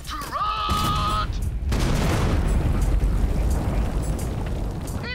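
A bridge explodes in the video game Borderlands 3, a tonal whine giving way to a massive, sustained roaring blast with rumbling debris that fills several seconds at close, loud range.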